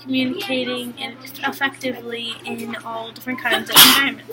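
A single sharp sneeze bursts out near the end, short and loud, while a person speaks steadily throughout in a classroom setting.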